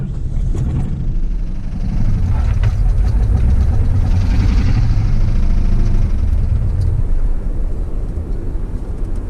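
A Ford 351 Windsor V8 roars loud and close, a dense steady low mechanical rumble that holds for most of the stretch before easing slightly near the end.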